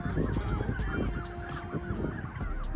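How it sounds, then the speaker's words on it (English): A flock of birds by the bay at Carmel-by-the-Sea, Monterey, gives loud, overlapping honking calls that carry on without a break against steady outdoor background noise. "it's all these birds"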